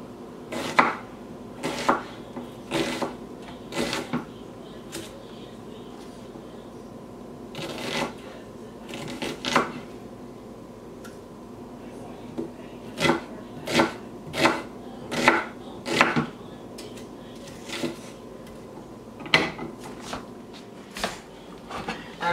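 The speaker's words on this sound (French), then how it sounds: "Je vais juste couper mes oignons." Onions being chopped with a knife on a board: sharp, crisp knocks come in uneven bursts, sometimes in quick runs and sometimes with short pauses, close and clear over a quiet kitchen hum.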